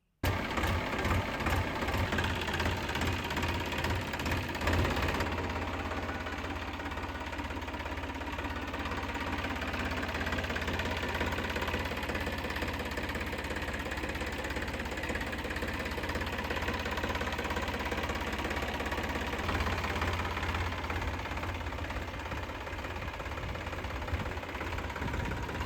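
A diesel tractor engine idles steadily throughout, a continuous low chugging rumble with a faint knocking pulse, close and fairly loud, no voices.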